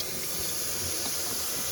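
Water filling a hydration bladder while packing for a motorcycle camping trip, a steady close hiss of flow running unbroken throughout.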